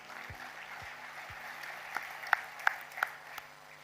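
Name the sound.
audience applause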